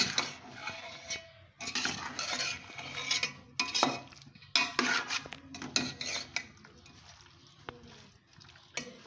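Spinach and capsicum cook in a pan as a spoon scrapes and clinks against the metal in irregular strokes, close and fairly quiet, with a soft sizzle underneath and a voice talking briefly.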